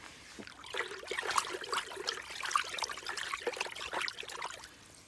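Liquid sloshes and swirls in a container as a rooting solution for blackcurrant cuttings is stirred hard, a steady wet churning with small splashy clinks, fairly quiet and close.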